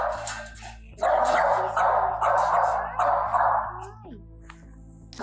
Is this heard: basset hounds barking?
yes